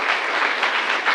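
A brief burst of steady audience applause at an innovation competition final, dense and even throughout.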